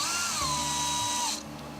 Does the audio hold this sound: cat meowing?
no